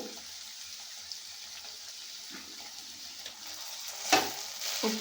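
Brinjal tomato curry with chili powder sizzles quietly in a pan, with soft stirring and a louder scrape and rustle near the end, close by and without speech.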